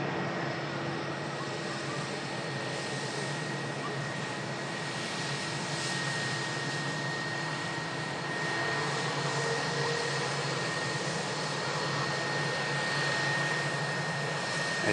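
A Virgin Atlantic A330 jet spools up for its takeoff roll, a continuous broad engine roar with a steady whine, loud and even throughout with a slight swell later, and no speech heard.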